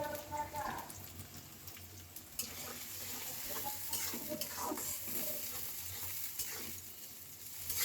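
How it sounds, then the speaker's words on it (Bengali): Potatoes frying with onions and green chillies in a wok (kadai), a steady low sizzle with stirring and scraping throughout, with some faint voice or background sound. "পেঁয়াজের সাথে আলুটা আমি ভেজে নিব"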